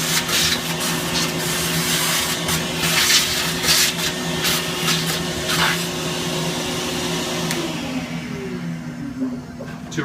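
A shop vacuum clears chips and debris from a CNC router cut, a loud steady whine with scattered rattling bursts as material is sucked up, tapering slightly toward the end.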